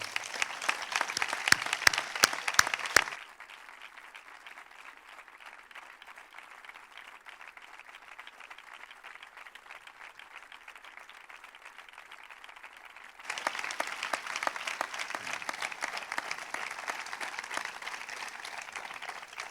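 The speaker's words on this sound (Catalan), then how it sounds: "un fort aplaudiment" Applause at the Corpus 2021 Festa Major proclamation ceremony in Cornellà opens with a few sharp claps, carries on as a soft steady patter, then swells louder again near the end.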